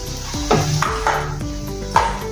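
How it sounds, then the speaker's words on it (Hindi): Spoon stirring garam masala into brinjal (baingan) sabzi in a pan, with several clinking scrapes against the pan and a soft sizzle underneath, close and fairly loud. "इसको भी अच्छे से मिक्स कर लेंगे"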